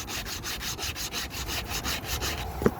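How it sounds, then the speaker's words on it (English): 80-grit sandpaper rubbed by hand over the lifting clear coat on a 1985 Corvette Z51, feathering the edges in a steady back-and-forth scratchy rhythm, close and alone, ending with a small tap. "I'm taking this 80 grit, feathering the edges where the clear coat's coming up"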